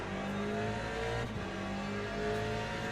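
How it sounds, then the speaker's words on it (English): Hypercars roar past in a racing video game, a loud continuous engine drone with steady tonal harmonics and a slight dip as they go by. "comes that gaggle of hypercars again"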